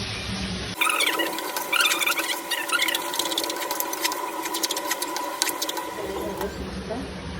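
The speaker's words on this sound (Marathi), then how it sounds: "पाऊस आला वाटतं" Rain begins falling around a home kitchen where a spicy dish is being cooked: a dense hiss with scattered patters swells in suddenly, holds steady for several seconds, then drops away near the end while a voice talks over it.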